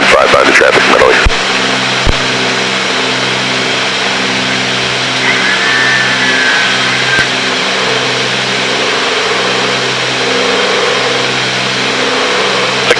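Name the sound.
Cessna 310 twin-engine aircraft engine noise in flight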